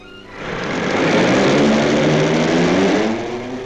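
A 1-litre prototype rotary engine, about the size of a football and weighing 60 pounds, runs in a demonstration, its steady whirring drone swelling quickly, holding loud and even, then easing slightly at the end.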